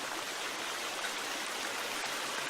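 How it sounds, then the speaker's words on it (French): Steady rushing water from a waterfall in the survival video game The Forest, a continuous even wash of noise at constant loudness with no voices over it. "Ouah, mais la cascade elle est trop belle quoi, sérieux."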